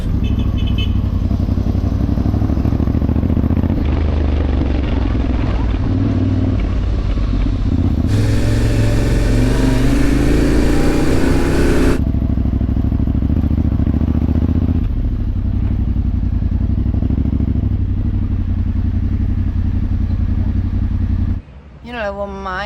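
A Benelli motorcycle rides along behind on an overland trip, its engine droning steadily with a brief louder rise in the middle, heard alongside wind and road noise.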